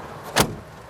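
An old restored car's door closing once with a single short, firm thud near the listener, followed by quiet cabin ambience.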